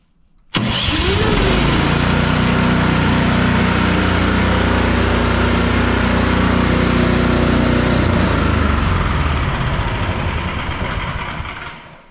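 An Ariens Platinum 24 SHO snow blower engine catches almost instantly after a sharp start and settles into a loud, steady running roar close by for about eleven seconds before easing slightly. Nobody talks.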